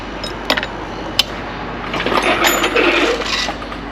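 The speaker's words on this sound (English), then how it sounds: "Let's remove our chains." Metal chains are unhooked from a boat engine, sharp clinks and a clatter followed by softer jingling and rattling close by.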